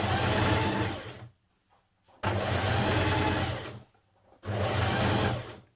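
A domestic sewing machine stitches a dart in dressmaking fabric, running in three steady bursts of fast, even whirring with short quiet pauses between them, close and clear.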